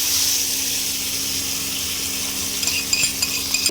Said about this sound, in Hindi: मैं खट्टे के ऊपर बघार डाल रही हूँ